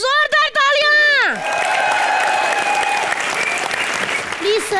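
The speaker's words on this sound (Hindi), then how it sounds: "एक बार जोरदार तालियां।" A television comedy show's studio audience breaks into loud, sustained applause with cheering. It swells in right after a rising musical sting and carries on steadily to the end.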